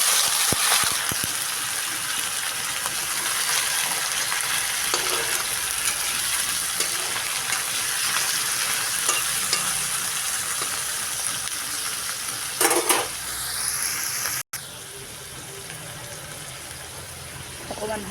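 Small fish frying in hot oil with onions, a loud continuous sizzle close by, broken by stirring scrapes and a brief louder hiss near the end.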